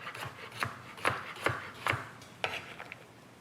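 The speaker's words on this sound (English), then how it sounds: "I have 3 carrots cut in half, and I'm just gonna rough chop them and throw them into our stock pot." Knife rough-chopping halved carrots on a cutting board for cabbage vegetable soup: a quick, uneven run of about eight soft, close thuds and taps.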